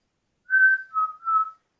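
A person whistles a three-note imitation of a bird call that sounds like "cheeseburger": a higher first note, then two lower notes, clear and close.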